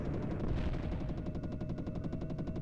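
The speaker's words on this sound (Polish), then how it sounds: "Okej, tam strzelają chyba w nas" Machine gun fire in the Amiga flight game A-10 Tank Killer, a rapid, steady stream of loud gunshots rattling continuously through the whole stretch.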